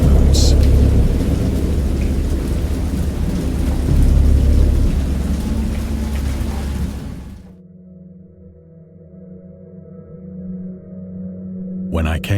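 In the video game Dagon, based on H. P. Lovecraft, heavy rain pours with low rumbling thunder, then the storm noise drops away to a quieter low hum with a faint sharp crackle near the end.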